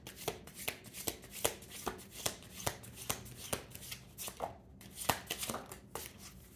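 Oracle and tarot cards shuffled by hand, close and crisp, in a steady rhythm of papery riffles and soft slaps, with no talking.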